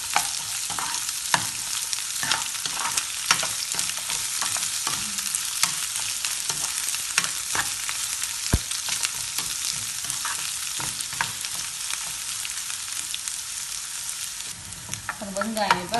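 Curry leaves and onion fry in a pan for lemon rice, giving a steady, close sizzle and crackle with occasional stirring scrapes throughout, and no talking.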